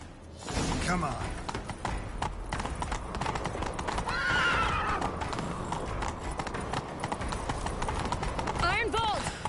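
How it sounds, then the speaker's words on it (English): Horses gallop hard in a chase in The Witcher 3, with steady rapid hoofbeats running close throughout and a horse whinnying partway through, plus a second neigh near the end. "Grab a horse, we'll chase him down."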